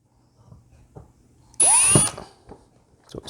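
A power drill bites into PVC pipe in one short, loud whirring burst of about half a second, rising in pitch. Quiet handling clicks and taps come before and after it.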